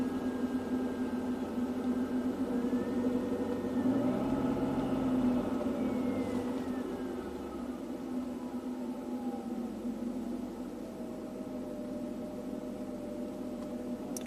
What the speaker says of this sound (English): we'll raise the RPMs a little bit